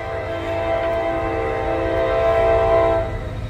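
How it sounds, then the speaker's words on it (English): A Norfolk Southern grain train passes, its horn sounding in long sustained blasts over a loud rumbling roll of rail cars that fades slightly near the end. "This is a Norfolk Southern grain train that's coming."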